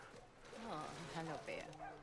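Dog in The Last of Us Part II giving short whimpers and yips, close and moderately loud, mixed with a person talking over it.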